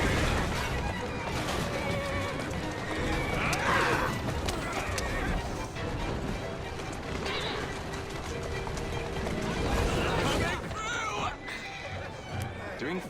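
Horse-drawn carriages race through Victorian London in Assassin's Creed Syndicate, with loud horses neighing and hooves clattering continuously over rumbling wheels, while voices speak over the chase.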